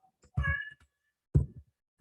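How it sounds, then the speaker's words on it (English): A rescue kitty cat lets out two short meows close by, the first a bit longer and tonal, the second rougher, with a brief start of a third at the end and no talk. "my rescue kitty cat"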